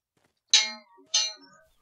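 Two bright chime tones ring out from a mobile phone notification, clear and close, sounding alone against silence.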